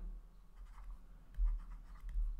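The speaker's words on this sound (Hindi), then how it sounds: "इन दोनों को थोड़ा सा हम नीचे लिख लेते हैं" Chalk or pen writing out working during a Class 9 maths lesson on rational numbers: faint, steady scratching strokes over a low background hum, with no voice.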